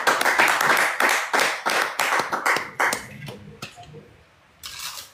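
Audience applauding at a religious gathering, a burst of loud close claps that thins to scattered single claps, then a final short flurry.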